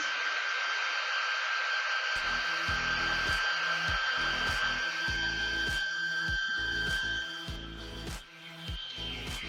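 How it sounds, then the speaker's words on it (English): A hair dryer blows in a classroom to speed the drying of paint, a steady loud whirring hiss throughout with a whine, while rhythmic knocking and tapping come and go over it. "a hair dryer to use to speed up the process when you're painting"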